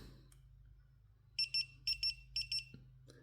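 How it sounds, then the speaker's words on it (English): A Viper two-way alarm remote control beeps three times in quick paired bursts, signalling that the command was not confirmed, clear and close over a low steady bench hum. "that's just beeping 3 times saying the alarm hasn't seen the command and it's not reported back to the remote control"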